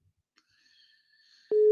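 Telephone busy signal during a radio call-in show, beginning after a brief faint tone and quiet line noise, then a loud steady beep tone starting abruptly near the end.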